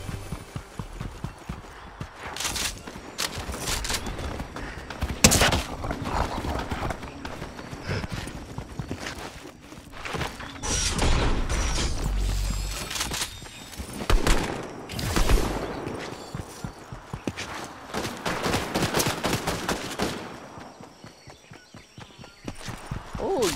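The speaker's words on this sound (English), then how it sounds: "Yes, that's an auto shotgun." Auto shotgun fire in the video game Fortnite comes as repeated loud blasts in bursts, mixed with footsteps and busy game effects, with no talk over it.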